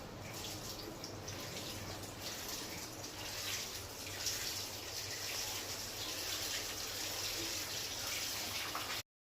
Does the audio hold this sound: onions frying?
no